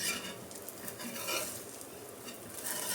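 Palm-fruit rotte (thati rotte) frying in a pan gives a steady, close crackling sizzle with faint scraping and stirring through the whole stretch, with no one talking.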